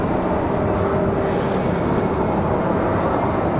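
A Spirit Airlines airliner from Newark, New Jersey roars past at an airport on a windy day, a loud, steady broadband engine rumble with no voices.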